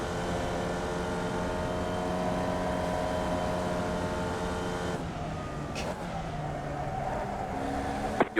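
A race car engine drones steadily at high revs in a racing video game, then drops and shifts as the car brakes, with a brief tick near the end.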